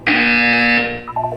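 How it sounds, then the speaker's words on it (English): A Portal 2 test-chamber buzzer blares as a loud, steady electronic tone for nearly a second, then fades into a few short, fainter tonal blips. "When you hear the buzzer, look down at the floor."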